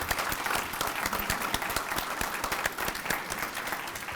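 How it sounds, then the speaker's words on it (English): A conference audience applauds the standing planning committee, dense steady clapping filling the whole stretch at an even level with no gaps. "let us applaud you"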